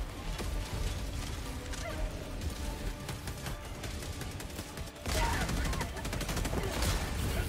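Autocannon fire in the video game Helldivers 2 during a bot offensive: dense, continuous heavy gunfire with mechanical clatter, loud and sustained throughout, intensifying near the end.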